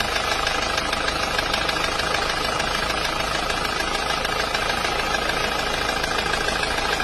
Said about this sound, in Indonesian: Ini adalah mesin penter dari Madiun yang kemarin ada suara klek seperti seker geplek itu.